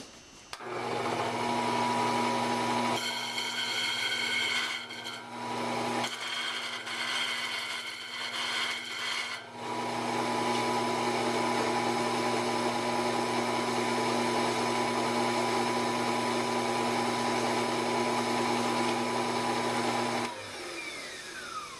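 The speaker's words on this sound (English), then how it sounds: "I'm going to just grind a little bit off of this tuner, make it drop in next to the next adjacent tuner" A power grinder shaves metal off a bass guitar tuning machine so it fits beside the adjacent tuner. It gives a loud, steady motorized whine that dips briefly a few times early on, then runs continuously before cutting off near the end.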